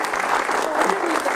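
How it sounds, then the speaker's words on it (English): Audience applause greeting a speaker being introduced at a morning event in Austin, Texas: dense, steady clapping from a crowd throughout, moderately loud and close. "Round of applause."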